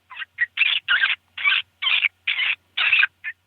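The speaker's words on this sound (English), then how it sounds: "This is vole squeaks." An electronic predator call plays vole squeaks: about ten sharp, high-pitched squeals in a quick irregular series, loud and close with silence between them.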